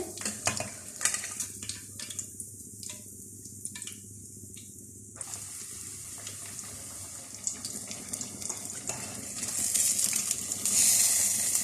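Pieces of crispy fish frying in hot oil, a steady broadband sizzle that goes on throughout at moderate level, with scattered crackles and a brighter, louder burst of hiss near the end, and no talking.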